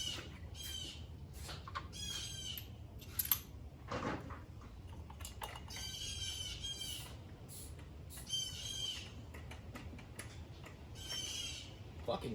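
Birds squawking outdoors in short, shrill, repeated bursts, fairly quiet and spread across the scene, with scattered thumps and some low talking at times.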